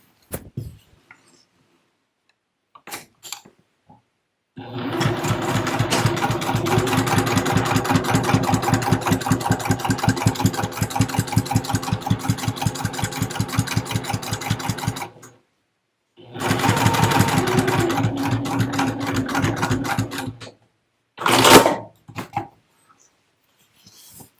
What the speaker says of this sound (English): And using 3/8 of an inch, I'm stitching seam to seam.